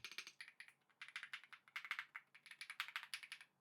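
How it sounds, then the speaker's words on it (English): Quick, crisp clicking of Mercury K1 Pro mechanical keyboard keys, tapped rapidly in bursts at close range, with no talking. "Oh my, what a satisfying click"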